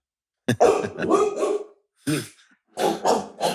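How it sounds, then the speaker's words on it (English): A dog indoors gives a few sharp, close barks in quick bursts separated by short pauses, with a rough, growly edge to some of them. "We interrupt this program with a dog wanting to speak"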